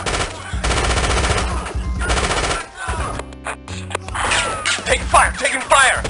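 Automatic weapon fire in the 1996 PC spy game Spycraft: The Great Game, sustained loud bursts of rapid gunshots followed by scattered shots and mechanical clatter, with no talk.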